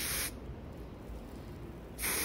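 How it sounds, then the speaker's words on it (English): Freeze hairspray hisses from a can onto a wig in two short, loud, close bursts, one at the start and one at the end. A quieter stretch lies between them. "So now I spray my freeze spray on top,"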